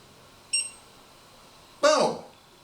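A sous vide cooker's timer gives two short electronic beeps about a second apart, close and clear against a quiet room.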